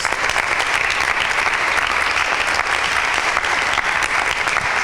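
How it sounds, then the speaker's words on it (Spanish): Loud applause from a congregation during a Bible quiz, a thick continuous roar of many hands clapping at steady intensity throughout, with no break or voice standing out. "Esteban, fuertes aplausos."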